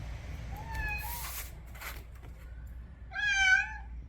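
A cat meows close by, two short calls and then a louder, wavering longer one, in a quiet room.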